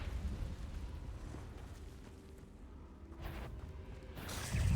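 The Confringo blasting curse from Hogwarts Legacy fires: a low rumbling gameplay bed, then two sharp fiery bursts a second apart, the second louder and closer.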